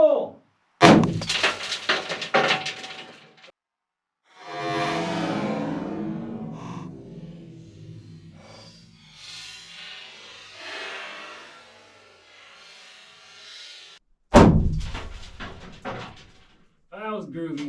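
Blasting caps set off Sierra Blasters with a Buzz Box BB 75 inside a gold prospecting mine. A sharp, loud detonation hits first, followed later by a second abrupt blast, with excited voices talking between them.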